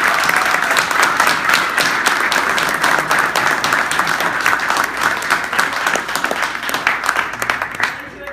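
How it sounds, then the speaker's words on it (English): Audience applause for candidates at the close of a candidate debate event, a dense, steady wash of many hands clapping that fills the room, loud throughout and thinning slightly near the end. "Why don't we give our candidates a round of applause?"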